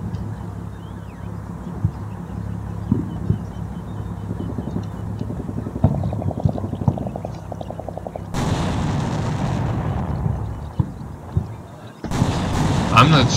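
Artillery fire in the modern-warfare game Combat Mission: Black Sea: a steady low rumble of gunfire gives way to loud, broad blasts near the end, heavy and booming rather than sharp.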